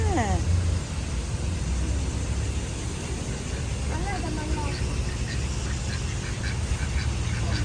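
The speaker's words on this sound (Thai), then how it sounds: "มาดูเป็ดสิคะเป็ดเป็ดเป็ด น่ารักจังเลยอ่ะ" Ducks quack over a steady outdoor wash of noise, with someone talking excitedly nearby through much of it.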